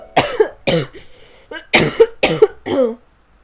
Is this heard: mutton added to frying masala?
no